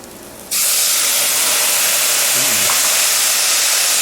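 Wine poured into a hot pan of rice for mushroom and pork risotto bursts into a loud, steady sizzle and steamy hiss that starts abruptly and holds without letup.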